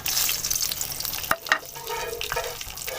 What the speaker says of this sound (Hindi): इनको ऑयल में थोड़ी देर फ्राई कर लेते हैं